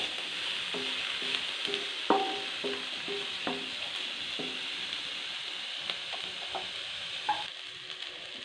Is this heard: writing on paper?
no